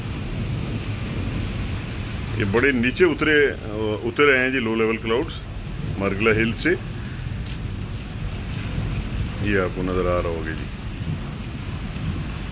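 Torrential rain falls in Islamabad in a steady dense hiss, with a distant low rumble of thunder, while someone talks over it at length.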